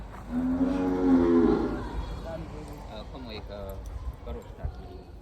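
Gir cows at a cow shelter in Surat give a long, loud, close moo early on, followed by fainter lowing and shuffling beneath a person talking.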